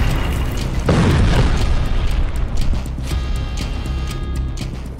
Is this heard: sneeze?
no